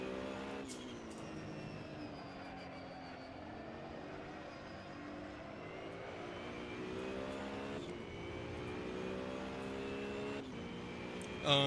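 Race car engine in the sim racing game Assetto Corsa Competizione, a GT3 car, droning steadily at high revs throughout with stepped pitch shifts at gear changes and a loud burst near the end.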